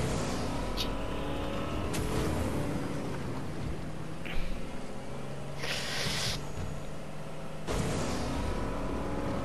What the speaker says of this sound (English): This is the ATV. This is all-terrain vehicle.